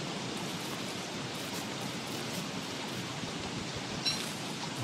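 Steady broadband rain hiss in the video game Don't Starve, a continuous even downpour filling the clip with no talk over it.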